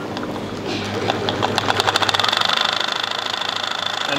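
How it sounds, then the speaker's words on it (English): A fishing line spooling machine winds line onto a Daiwa Saltiga 5000 reel, starting up and speeding into a rapid, even mechanical chatter like a sewing machine, loud and close. "Basically, it's just a big sewing machine."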